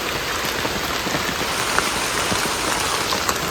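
Heavy monsoon rain pours down steadily beside a river in the Konkan countryside, a dense, even roar of drops with no voices.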